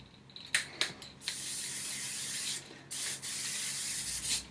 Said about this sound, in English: So after you use this Moroccan Oil Stronghold Setting Spray,